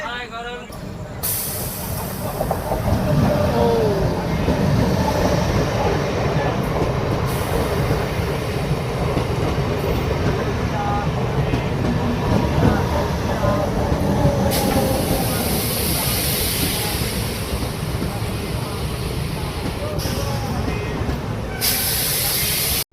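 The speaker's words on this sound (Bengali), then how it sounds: "এদিক থেকে একটা ট্রেন আসছে" A train from Malda heading toward Kolkata passes with a loud, continuous rumble and rattle that lasts throughout, broken by occasional bursts of rushing hiss.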